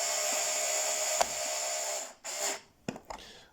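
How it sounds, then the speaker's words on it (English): A screwdriver driving screws into the board of a speaker box, with a steady whirring drive that stops, then a few short bursts and clicks close by. "Mounting the screws now is quite simple, and they go nicely into the"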